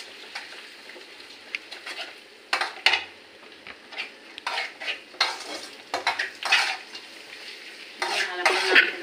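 Pasta stirred with ground black pepper in a frying pan, repeated scraping and clinking of a utensil against the pan over a low sizzle, irregular bursts close up with no talking.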